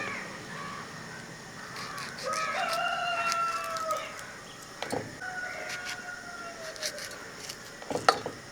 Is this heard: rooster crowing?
yes